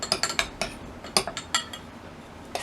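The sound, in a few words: stirring a homemade seasoning blend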